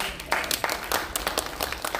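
A crowd claps and applauds steadily for a couple of seconds, with sharp overlapping claps throughout.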